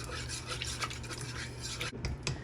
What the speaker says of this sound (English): We're gonna whisk, whisk, whisk. And let it thicken up.